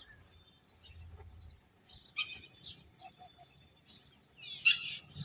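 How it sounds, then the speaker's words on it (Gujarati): Birds chirp in the early morning in a rural village beside a road under construction, giving scattered short calls, with two louder bright bursts near the middle and end over a low background rumble. "પક્ષી જોઈ લો તમે દોસ્તો"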